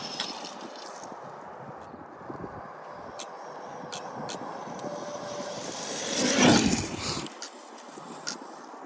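A Traxxas Maxx 4S RC truck fitted with steel driveshafts races fast through grass, its electric motor whine swelling into a louder pass-by and then fading, with no talking.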